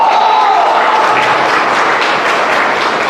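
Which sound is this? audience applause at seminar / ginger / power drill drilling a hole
audience applause at seminar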